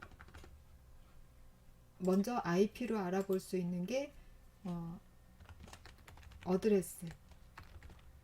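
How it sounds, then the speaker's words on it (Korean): Typing on a computer keyboard during a Korean networking lecture, faint scattered key clicks under a man's speech. "이 강의 자료를 보시면서 실제로 여기서 타이핑하는 거를 한번 해볼게요."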